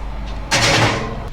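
A kitchen oven door shuts with one firm, close thud followed by a brief rattle, set in a home kitchen during family dinner cooking.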